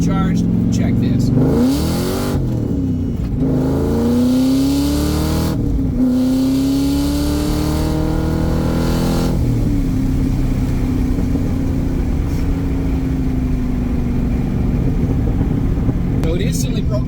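A 600-horsepower supercharged V8 in a Mazda Miata revs hard and accelerates with a loud, rising roar, climbing in pitch through gear changes and then settling into a sustained heavy drone, heard from inside the car.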